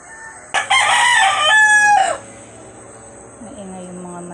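A rooster crows loudly and close by, one long drawn-out call, followed by softer clucking from hens; steady insect-like hiss in the background.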